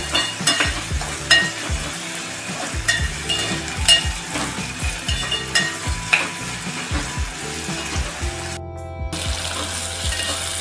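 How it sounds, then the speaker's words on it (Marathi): Chopped green chillies and a small tomato sizzle steadily in a hot pan while a spoon stirs them, giving repeated scraping clinks over the continuous frying hiss. "आता हे सुद्धा आपल्याला एखाद मिनिट छान असं परतून घ्यायचं"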